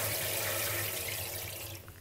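Water runs from a modern kitchen faucet into the sink in a steady, close, soft rush that eases off near the end.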